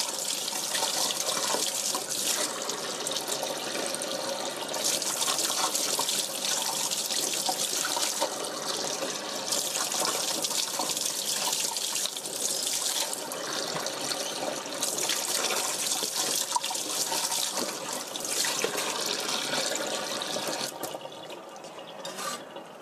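Running tap water pours steadily as shiitake mushrooms are washed beneath it, a continuous close splashing and trickling with small shifts where the stream hits the caps, ending a little quieter.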